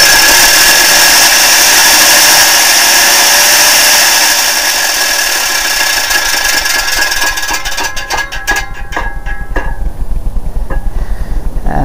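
A centrifugal variable torque converter on a trial run, spinning with a loud, steady high-pitched mechanical whir that later breaks into rattling, clattering bursts as its plastic fingers shred, heard up close with no talking.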